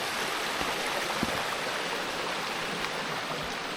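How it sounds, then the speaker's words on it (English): Small waterfalls of crystal clear water in wet, rainy weather give off a faint, continuous hiss and trickle, steady throughout with no voices. "And beautiful little water falls there. The water's crystal clear again."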